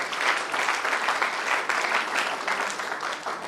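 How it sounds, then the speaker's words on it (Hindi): A crowd at a celebration event in Mughalsarai claps energetically, a loud, continuous wash of applause with slight surges in intensity throughout. "एक बार जोरदार तालियां होनी चाहिए।"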